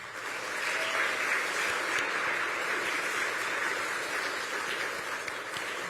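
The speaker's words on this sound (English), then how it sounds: "Give yourselves a round of applause." Sustained applause from an audience at the New York Stock Exchange during a Scouting America membership-drive event, an even, steady wash of many hands clapping at moderate distance, with no voices over it.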